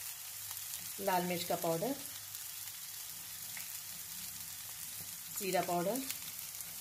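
Dry spices, red chilli powder, cumin, turmeric, coriander and garam masala, roast for anda ghotala street food with a steady sizzle, while someone talks in two short bursts over the frying.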